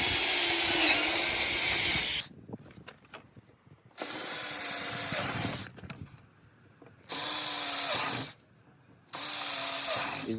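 A power drill with a 25/64-inch bit boring holes to mount lower doors on a Honda Talon 1000 X4, heard as three separate loud whirring bursts of a few seconds each, separated by quiet pauses with faint handling noise.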